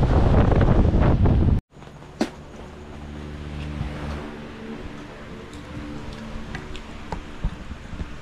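Strong monsoon wind buffets the microphone in a loud roaring burst, then drops to a steadier gusty rush with faint water and scattered knocks.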